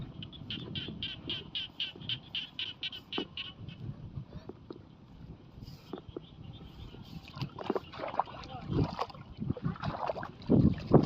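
Frogs croaking outdoors in Thailand: a rapid, pulsing chorus of croaks in the first few seconds, then fainter calls under gusty wind noise and rustling handling sounds, with no speech.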